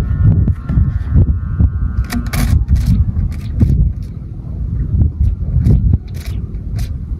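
Strong northeast monsoon wind buffets the microphone outdoors while a kite is flown, with loud low rumbling gusts and scraping, crackling bursts of handling noise.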